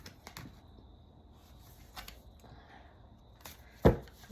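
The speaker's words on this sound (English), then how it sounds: "I wasn't done shuffling and two came flying out." A deck of tarot cards is shuffled in a few soft, scattered riffles and taps, then a sharp slap as cards spill out near the end.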